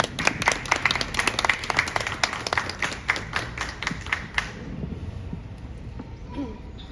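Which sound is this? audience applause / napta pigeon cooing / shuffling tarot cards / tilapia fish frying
audience applause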